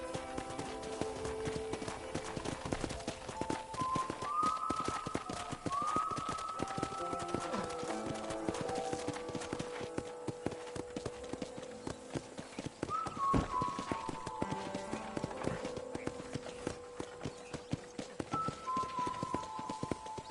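Steady clip-clop of horse hooves at a walking pace around a ranch in Red Dead Redemption on PS5, with a whinny and tonal game-style sounds layered over continuous ambience.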